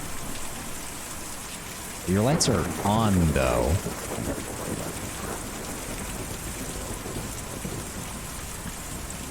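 Steady rain with thunder in the video game Kentucky Route Zero, a constant wash of falling water throughout, with a voice speaking briefly over it near the start.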